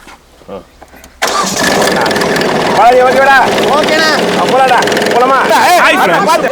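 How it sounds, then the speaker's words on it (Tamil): A tractor engine cranks briefly and then catches, roaring loudly into a steady, close idle that rumbles on without a break. "இப்போ நீங்க பாத்துறது டிராக்டர் எப்படி ஓட்டுறதுங்கிறத பத்தி தான்"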